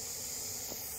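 A large Indian Russell's viper gives a steady, breathy warning hiss that holds for the full second, quiet and close with no other sounds over it.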